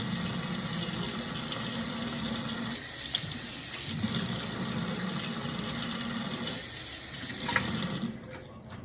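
A kitchen tap runs steadily into a sink as chopped leeks are rinsed, a continuous close hiss of flowing water with slight changes in the stream and a few clinks near the end.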